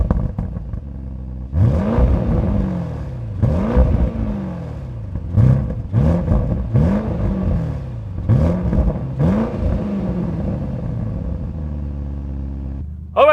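A 2025 Audi RS Q8 Performance engine revs repeatedly while stationary, each blip rising and falling in a rhythmic series of loud, close roars over a steady idle.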